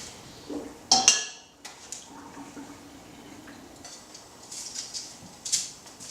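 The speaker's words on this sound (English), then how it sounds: "now we're just going to drain our pasta" Cooked penne pasta being drained, with a metal clank of a pot near the start followed by faint splashing and trickling water and light clinks.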